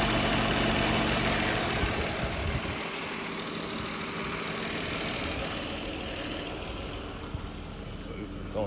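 A Chrysler 300 engine with a cracked thermostat idles steadily, a low continuous rumble that softens after the first few seconds and holds evenly, close by.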